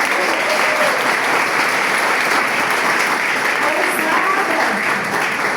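Church congregation applauding, a loud, sustained wash of many hands clapping from start to finish, with voices faintly mixed in.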